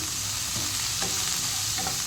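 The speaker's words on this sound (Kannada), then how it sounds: "ನೀರುಳ್ಳಿ ಫ್ರೈ ಆಗ್ತಾ ಇದೆ" Onion and ginger frying in oil, a constant close hiss of sizzling with a few soft stirring scrapes underneath.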